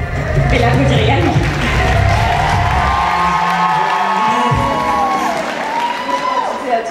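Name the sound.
audience applauding and cheering for a pageant candidate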